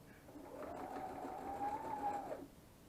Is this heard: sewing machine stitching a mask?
yes